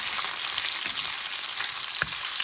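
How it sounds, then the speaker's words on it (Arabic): Chili peppers fry in hot oil with a steady, loud sizzle and crackle that runs the whole time. A few soft stirring clicks come through the hiss. "نهز الفلفل تاعي هذاك نقليه هنا في الزيت"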